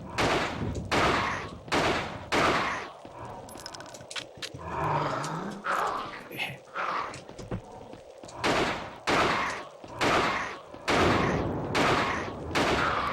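Repeated bursts of gunfire from the survival horror game Alone in the Dark: The New Nightmare, loud volleys fired at a tough creature, with a quieter stretch of rumbling ambience between the opening and closing barrages.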